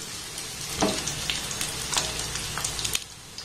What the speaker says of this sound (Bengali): গ্যাসের ফ্লেমটাকে একদম লো রেখে এগুলোকে ভাজতে হবে, তাতে করে কিন্তু এই পেঁয়াজিগুলো খুব ভালোভাবে ভাজা হবে